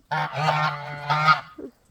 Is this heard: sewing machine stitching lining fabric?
no